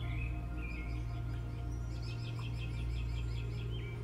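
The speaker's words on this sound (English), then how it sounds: "Other than the chirping sounds of birds from above and in the distance, they seemed to be alone." Birds chirp and tweet overhead and farther off in a quiet outdoor setting, thin scattered calls in short bursts layered over a steady low background hum.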